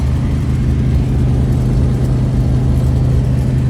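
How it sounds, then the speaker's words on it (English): An idling 1973 Dodge Charger SE 400 with a 4-speed gives a steady low rumble close by, with a loose shifter piece rattling through the engine drone; no voices. "That rattling you hear is the piece on the shifter here."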